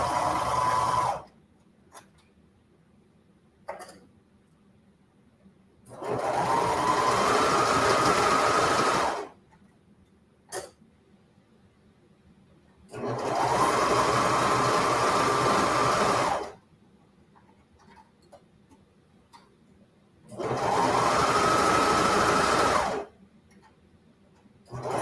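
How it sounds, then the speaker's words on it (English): Sewing machine stitching through three layers of shirt fabric, running in three steady whirring bursts of about three seconds each, separated by quiet pauses with faint clicks, close and moderately loud. "I'm sewing through 3 layers of fabric"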